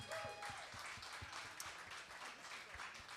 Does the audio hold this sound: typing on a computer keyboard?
no